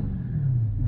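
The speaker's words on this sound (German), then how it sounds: "Das ganze Auto geht so, wenn man Gas gibt." A Dodge Challenger engine revs briefly, a deep, loud low rumble that makes the whole car shake.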